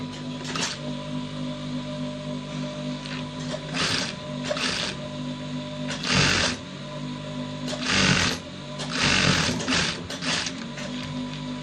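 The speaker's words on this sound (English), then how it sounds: "Then you sew at the tip as shown." Sewing machine stitching the tip of a placket with a pipe neckline, a loud close mechanical whirr in several bursts, starting and stopping with short pauses between runs.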